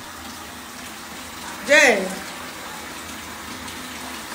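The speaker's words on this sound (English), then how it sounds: "we gonna run this water" Water runs steadily into a tub as a hot bath is drawn, a constant hiss throughout with a short spoken word briefly over it.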